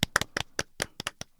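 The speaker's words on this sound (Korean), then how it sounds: "박수 한번 치시죠." A few people clap briefly in a studio talk show, making about nine quick, uneven, close claps over roughly a second and a half, with no one speaking.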